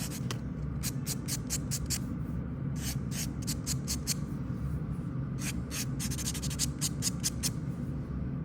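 A sanding block buffs the edge of a fingernail during a manicure in a series of short, soft, scratchy rubbing strokes that come in quick rhythmic bursts, faint and close, with no one talking.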